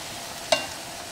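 Chopped, deseeded jalapeno hits a hot pan over high heat with a brief sizzling burst over a steady background hiss of frying.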